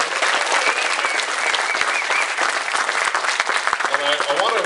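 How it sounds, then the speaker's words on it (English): An audience at a candidates' forum applauds the candidates: dense, loud, steady clapping that fills the whole stretch, with a few voices mixed in. "give a big round of applause for all of our candidates"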